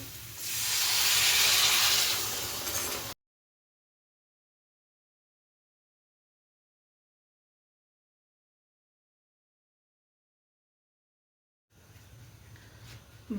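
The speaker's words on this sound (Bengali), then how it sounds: "এখন এখানে জল অ্যাড করা হবে।" Hiss and steam rise loud and broad as water hits a hot chickpea curry, lasting about three seconds, then silence before a fainter background returns.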